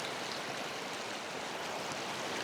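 River water runs over and around stepping stones during high flow, a steady, even rushing wash of moderate loudness with no break across the whole stretch.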